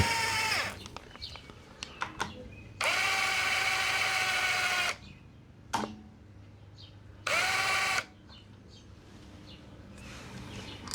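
A power tool runs in two sustained whirring bursts, one long and one short, as 10mm bolts are snugged down on a Honda Acty HA4 (E07A) engine during a rebuild, with scattered clicks and clinks of parts between the bursts.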